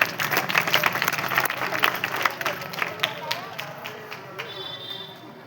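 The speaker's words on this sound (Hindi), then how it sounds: "जोरदार तालियां।" An audience claps enthusiastically during a comedy sketch, a burst of close, dense applause that tapers off over several seconds.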